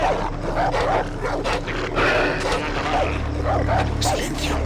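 Dog barking and yipping in Far Cry 3, with a constant game ambience and low hum underneath and speech-like sounds mixed in.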